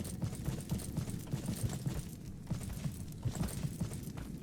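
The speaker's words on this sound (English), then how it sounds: "I hear footsteps." Cave beasts pacing through a dungeon in the video game The Fall of the Dungeon Guardians, heard as a steady run of low, rhythmic thudding footsteps, fairly close and moderately loud, with no talking over them.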